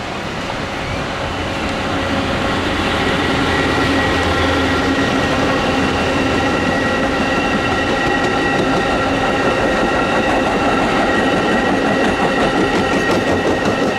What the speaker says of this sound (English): It all started with a 33-minute late Amtrak train 580.